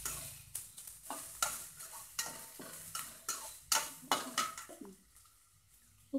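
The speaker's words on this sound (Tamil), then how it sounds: "வெங்காயத்தையும் வரமிளகாயும் போட்டுக்கோங்க. கொஞ்சம் கருவேப்பிலை போட்டு நல்லா வதக்கிங்க." Onions, dried red chillies and curry leaves sauté in a pan, a soft sizzle under a rapid series of sharp spatula scrapes and taps against metal, close and rhythmic, with no talk.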